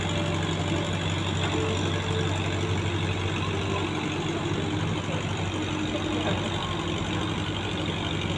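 A steady, low diesel engine drone from a sand barge heading upstream runs throughout, loud and close, with a constant rumbling throb and no talking.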